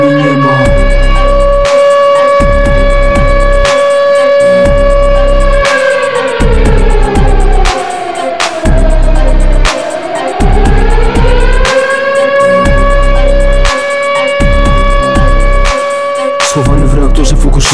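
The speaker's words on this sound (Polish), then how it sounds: "Nagle głośny hałas i znów syrena." A siren sound effect in a Polish rap song about Fukushima, a loud wailing tone that sweeps down and back up over a thumping beat.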